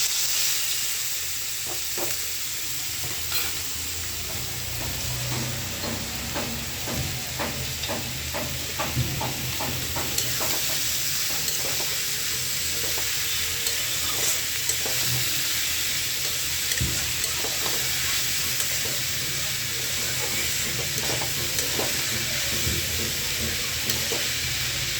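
Potato pieces coated in turmeric and salt fry in a pan with a steady, close sizzle and hiss, broken by scattered crackles and the occasional scrape of stirring throughout.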